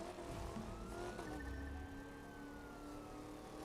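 A police car siren from the racing video game The Crew 2 wails steadily with a rising and falling tone over a low engine drone, moderately loud throughout the short moment.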